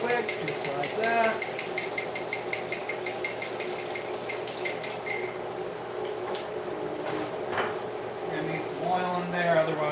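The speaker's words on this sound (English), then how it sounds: "Just whisk it up real good, real quick, just like that." A whisk beats ingredients in a bowl for a chicken stir fry, a quick, regular run of light metallic ticks, close and crisp. It stops midway, then a few scattered clinks follow, under a person talking.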